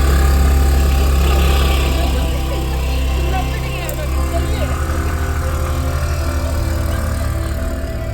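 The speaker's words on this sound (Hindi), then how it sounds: "चढ़ाने में वापस स्कूटी की हालत ख़राब हो गई" A scooter engine labours loudly and steadily while climbing a steep hill road in Mussoorie, a continuous strained drone with wind rumble and faint voices underneath.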